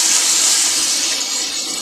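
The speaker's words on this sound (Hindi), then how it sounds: "इसमें हम आधा जग पानी डाल देंगे।" Half a jug of water is poured into fried masala for beef degi korma, a loud, steady rushing hiss that eases slightly toward the end, with no voices.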